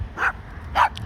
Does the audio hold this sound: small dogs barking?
yes